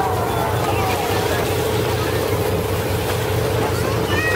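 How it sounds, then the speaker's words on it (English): A whale-watching boat motoring at about 12 miles an hour, its engine a steady low drone beneath rushing water and wind buffeting the microphone, constant and close throughout. "Our boat goes about 12 miles an hour."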